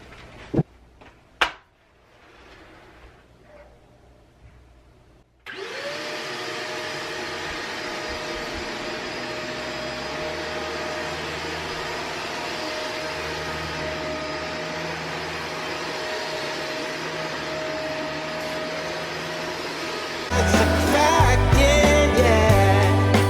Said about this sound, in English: So let's try out this vacuum.